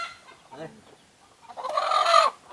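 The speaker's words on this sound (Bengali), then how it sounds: "এত অনেক বড় রাওয়া। দেশি রাওয়া, দেশি রাওয়া।" A large native country rooster gives a short cluck, then a louder, harsher drawn-out squawk, close by in a quiet space.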